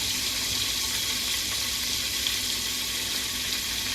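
Ground beef, 80/20, goes into a hot pan and sizzles as a steady, loud broadband hiss of frying that holds evenly throughout with no talk.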